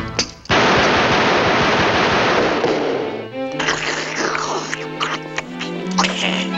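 Cartoon gunfire in a 1959 animated Western gun duel bursts out as a loud, dense volley, then gives way to ringing, clattering effects.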